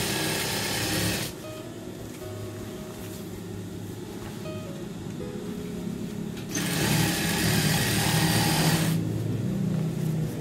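A sewing machine stitching colored trousers runs in close, loud bursts of rapid mechanical whirring, stopping briefly and restarting before a final short run.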